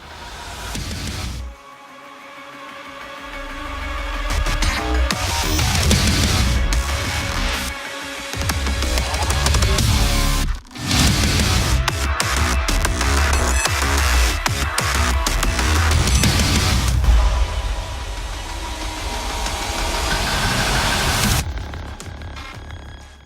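A track from the Doom soundtrack plays loud and dense, a heavy, distorted metal track that drives on for most of the stretch, with one brief dip near the middle.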